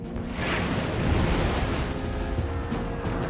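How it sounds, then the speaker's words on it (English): Grenades burst during the bombardment in the Siege of Quebec of the Seven Years' War, heard as a dense, continuous rumble of blasts with a deep, rolling roar. "The bursting of the grenades."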